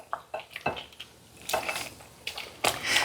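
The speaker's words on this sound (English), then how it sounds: "Let me go ahead and stir this up." A spoon stirs and scrapes ingredients around a bowl in a home kitchen, producing a series of soft, irregular clinks and swishes, close and fairly quiet, with no talking.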